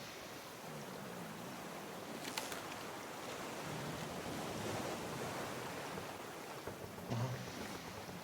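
Soft, continuous wash of ocean waves and surf in the game Raft with a faint airy hiss, steady and distant, no voices.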